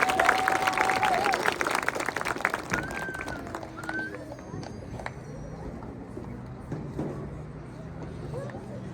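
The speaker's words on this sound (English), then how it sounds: "So let's give a round of applause for our school faculty and our board members." Audience applause at a school marching band show fills the first few seconds, dense and loud, then thins to scattered claps and a murmuring crowd with voices through the rest.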